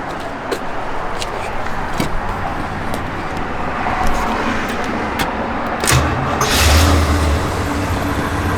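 A 1965 Oldsmobile 442 turns over and catches, its engine settling into a steady loud rumble with a throaty swell of revving near the end, close by and with no talking.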